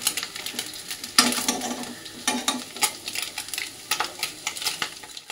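Fish frying crisp in a hot wok of oil, a steady close sizzle with stirring and utensil scrapes against the pan.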